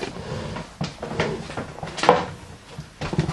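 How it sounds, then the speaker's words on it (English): A household door opened to let a cat out, a few soft knocks, rattles and a creak spread over a few seconds, close and moderately loud. "my cat's now wanting me to open a door"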